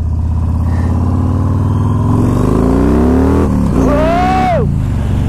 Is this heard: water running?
no